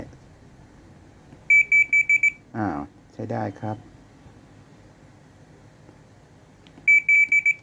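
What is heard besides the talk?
beep from air conditioner control board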